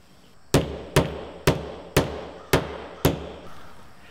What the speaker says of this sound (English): and then hammer them into place.